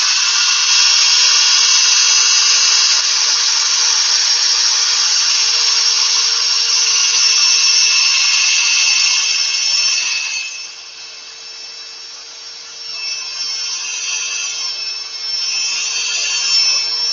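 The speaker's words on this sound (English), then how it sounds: "I'm going to turn the lathe on to sand where there's full wood, not where there's the air, open air." A wood lathe spins a square bowl while sandpaper is pressed against it, making a loud, steady, close hiss that dips for a few seconds before returning.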